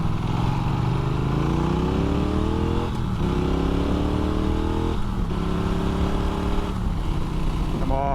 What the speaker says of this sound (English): on the motorbike, catching flies on your lid, making lots of rumbly noises